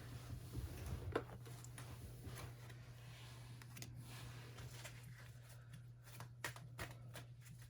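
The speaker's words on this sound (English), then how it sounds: "Let's get one more here really quickly for you." Tarot cards being shuffled close up, soft riffling and flicking bursts repeating over a quiet room with a low steady hum.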